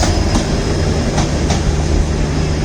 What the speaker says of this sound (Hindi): चल रही है, साबरमती WDP 4 त्रिवेंद्रम वीरावल एक्सप्रेस।